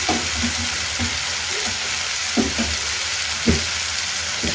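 Food fries in a pan with a steady, close sizzle, broken by a few soft stirring knocks.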